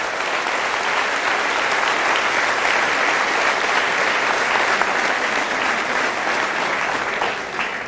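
Loud applause from a church congregation honoring Jesus during a sermon by Padre Bernardo Moncada: dense, steady clapping that fills the entire stretch without pause and dips slightly only at the very end.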